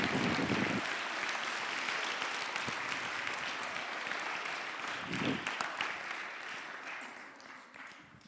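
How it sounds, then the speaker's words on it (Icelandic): Congregation applause during a church service, a sustained wash of many hands clapping at moderate distance, gradually tapering toward the end. "skulum gefa henni gott klapp."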